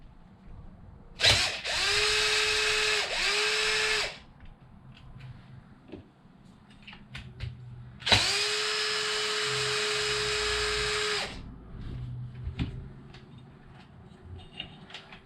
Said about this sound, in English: I'm going to have to unbolt this coil just to make it easier.